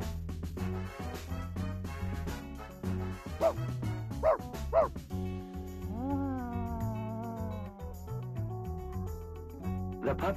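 A puppy in the video game Reverse: 1999 gives a few short yips and barks in the middle, set over steady background music that plays throughout.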